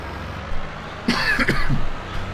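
Coughing or throat clearing from a man doing baling work on a farm, a burst of a few rough coughs in the middle over a steady outdoor engine hum.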